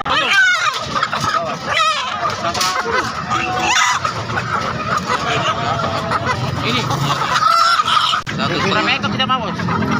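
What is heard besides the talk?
free-range village chickens (ayam kampung) clucking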